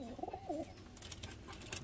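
A lofted fancy Abluk Madras pigeon with a curved beak gives a short, soft, throaty coo close by, followed by faint rustling.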